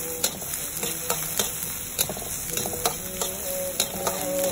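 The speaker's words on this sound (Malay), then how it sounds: "Goreng hingga dia kekuningan." Steady sizzling of chili frying in hot oil, with light scraping and tapping of a spatula against an old wok at irregular intervals, close by.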